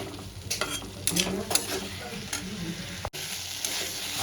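Potatoes and spices fry in hot oil in a pan while a spoon stirs them, giving a continuous close sizzle broken by repeated scraping strokes at an uneven rhythm.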